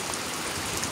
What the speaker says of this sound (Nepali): चाहिँ कन्दरबाट चाहिँ खसिरहेको एकदम अर्ग्यानिक पानी रहेको छ